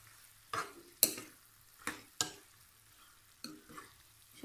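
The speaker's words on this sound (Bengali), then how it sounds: "এখন আমি পাস্তাগুলো সবজিটার সাথে মিক্স করে নেব" Boiled pasta is mixed into cooked vegetables in a pan for a desi-style masala pasta, with several distinct scraping stirs and clanks over a faint low sizzle and quiet pauses between strokes.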